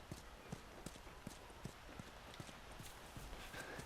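Horse hooves in The Last of Us walk at a steady clip-clop, a regular rhythm of soft, close footfalls over a quiet outdoor ambience with no talking.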